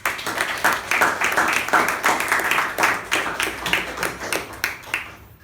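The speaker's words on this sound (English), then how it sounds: "that special quality needs another round of applause" A meeting audience gives another round of applause, a close, loud patter of clapping whose distinct individual claps grow sparser and more rhythmic as it tapers off.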